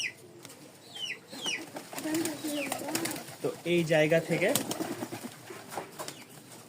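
Pigeons kept at home coo and flutter in a loft, a low burbling call rising near the middle, mixed with someone talking close by.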